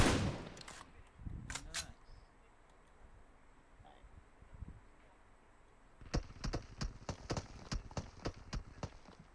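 Sharp bursts of gunfire crack out in the video game PUBG Mobile, a few early shots and then a rapid string of reports, over a low background rumble.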